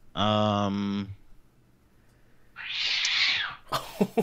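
A cat gives one loud, drawn-out meow close by during a keyboard design stream. A breathy rushing noise follows after a pause, then a voice speaks briefly.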